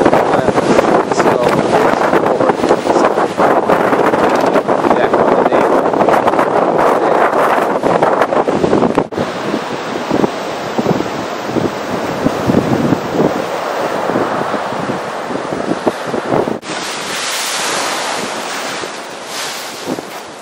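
Storm surf crashes against the Scituate seawall in a 2010 blizzard, loud continuous roaring waves with heavy wind buffeting the microphone, a brief drop in intensity midway before the roar builds again.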